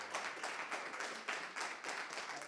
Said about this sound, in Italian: È un applauso quello che accoglie Alberto Stefani